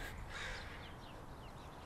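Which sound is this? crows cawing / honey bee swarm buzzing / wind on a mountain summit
crows cawing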